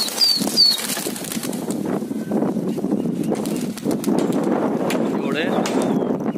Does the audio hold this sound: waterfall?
no